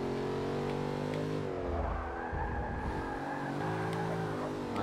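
A Corvette Z06 race car of about 660 horsepower in the Forza 6 video game, with its engine droning loud and steady, dipping briefly as it shifts and then climbing back up under power.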